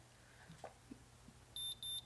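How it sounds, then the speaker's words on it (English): Two short electronic beeps ring out near the end, high and clear, after a few soft handling noises in a quiet room. "It's going to beep at you a couple times"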